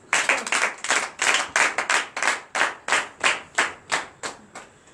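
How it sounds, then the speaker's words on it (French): Rhythmic clapping of hands in acclamation to Jesus during a night deliverance and prophecy church service, about fifteen sharp even claps in a steady beat, close and loud, fading slightly toward the end. "Donne l'acclamation à Jésus."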